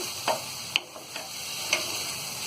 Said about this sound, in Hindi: अब इसे चलाएंगे।